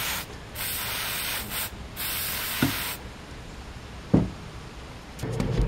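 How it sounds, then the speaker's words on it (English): Dry lubricant sprayed from an aerosol can onto the rods that carry the spools of a blackmatch machine: three close, loud hissing bursts, then quieter handling clicks. "I do give the rods that the spools ride on a little bit of a shot of dry lube to ensure that they turn really, really easily."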